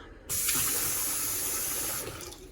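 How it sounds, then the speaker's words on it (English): A touchless kitchen faucet in a newly moved-into house runs steadily, a continuous splashing hiss of water into the sink that starts abruptly and fades a little near the end. "we've got our faucet, and we actually ended up getting it working too. It's just touchless"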